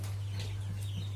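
Pelung chickens in a small coop give faint clucks and calls beneath a loud, steady electrical hum throughout.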